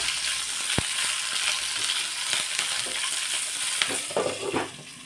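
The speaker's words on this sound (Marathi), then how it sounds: "झाकण ठेवून फुल गॅसवर आपल्याला ही मिरची दोन मिनटं भाजून घ्यायची" Green chillies with a pinch of asafoetida roasting in oil over full flame, a constant sizzle with scraping stirs and a sharp clink near the start, no talking.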